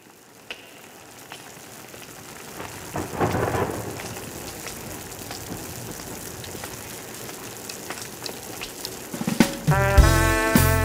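Recorded rain and thunder effect played on stage at a live club concert in Bulgaria: steady rainfall with a rolling thunder swell, fairly loud, before instruments enter near the end.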